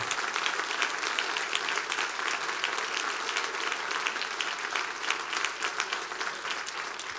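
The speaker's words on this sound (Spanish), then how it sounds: "Den un aplauso a Jesús" Spanish-speaking church congregation giving a sustained round of applause, crisp many-handed clapping at a steady, full level from start to finish.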